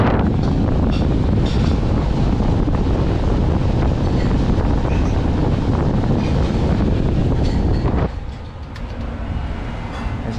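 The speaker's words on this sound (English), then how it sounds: "It's gonna get a little windy in here as I have this little place open" Loud, steady rush of air pouring from an opened LG Multi V air handler that is leaking water inside its air duct, on an HVAC service call, a close, broad whooshing roar that drops abruptly to a softer hiss near the end.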